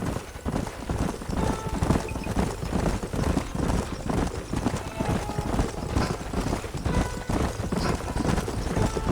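Steady clip-clop of horse hooves trotting on hard ground in the video game Red Dead Redemption 2, continuous and fairly close, with an occasional whinny over a busy background.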